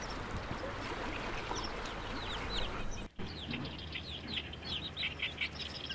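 A dense chorus of bird calls rises from a riverside reed bed along the Hantan River, with many overlapping chirps and whistles over the steady rush of flowing water and one brief dropout midway.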